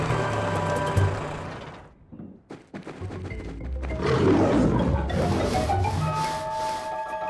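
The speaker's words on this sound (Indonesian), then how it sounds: "Mereka pasti dengar suara singa betina ini." A lioness lets out loud, rumbling roars, broken by a short quieter gap before a heavier, rasping roar swells up.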